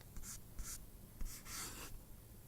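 Chalk or marker strokes sound close during a quantum mechanics lecture as equations go up on a board, coming in short scratchy bursts and then one longer rubbing stroke.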